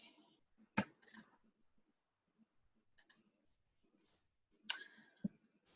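A computer mouse gives a handful of crisp, isolated clicks, some in quick pairs, separated by near silence in a quiet room.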